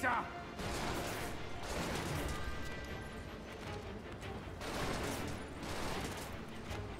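Gunfire from enemy pistols in the video game Final Fantasy VII Remake, dense, overlapping bursts of shots and impacts running through the whole stretch amid game effects, with a voice speaking at times.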